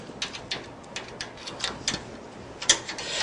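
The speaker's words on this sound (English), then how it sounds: "tighten that Allen screw under there" An Allen screw being tightened with a hex key on a Shopsmith SS104 woodworking machine, giving a series of faint, quick metallic clicks and ratcheting ticks spread through the moment, fairly close and alone.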